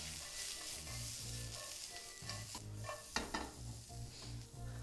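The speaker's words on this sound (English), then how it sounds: "pepper, all three colors, I'm going to just saute this." Bell peppers in three colors sauté in a pan for a vegetable wrap, sizzling steadily under continuous stirring and scraping of a utensil, close and moderately quiet, with no voices.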